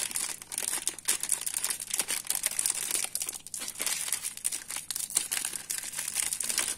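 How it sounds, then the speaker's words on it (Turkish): Plastic wrapper of a Biskolata chocolate stick snack crinkling and crackling continuously as the package is torn open, close and fairly loud with dense irregular rustles throughout. "şimdi bu ürünün içini de açalım"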